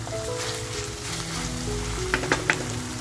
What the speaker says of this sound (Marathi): परतवून घ्यायचं आहे म्हणजे खरपच परतवून घ्यायचं आहे